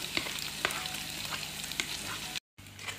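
Mashed potato sautéing in a pan, a continuous sizzle with a few sharp stirring knocks, briefly cut by a moment of silence near the end.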